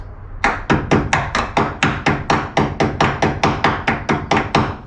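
A hammer taps a folded steel panel flange on a Classic Mini Cooper Sportspack MPI, about eighteen sharp, close metallic hits at a steady, brisk rhythm with no talking.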